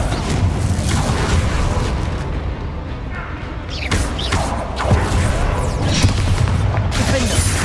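Bombarda blasting spell explosions in the Hogwarts Legacy video game: dense, roaring blasts and crackling bursts, loud and continuous, with rumbling booms and sharp impacts layered over game combat noise.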